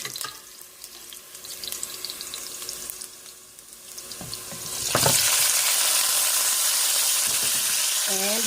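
Pork ribs for adobo go into a hot pan with a loud, steady sizzle and hiss that builds and then holds, after a stretch of clinking, scraping kitchen noise.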